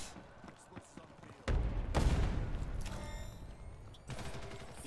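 Gunfire in the online shooter Ghost in the Shell: Stand Alone Complex First Assault, a burst of loud bangs and rattling shots that starts about a third of the way in and keeps up behind the game's noise.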